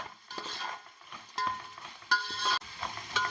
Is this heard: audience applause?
no